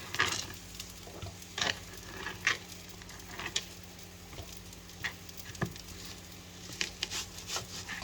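Onion sizzling and frying in a pan, a quiet steady crackle with scattered pops and occasional stirring scrapes, heard up close with no talk.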